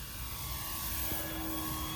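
A 1700mm RC P-51 model airplane flies overhead, a steady buzzing engine drone heard at a moderate distance, continuous and even throughout.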